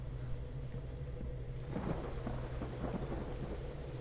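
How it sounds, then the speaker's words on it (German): A thunderstorm in the video game Monochroma: steady rain hiss under a low rumble of thunder that swells midway and fades, with no voices. "Ist auch noch ein Gewitter."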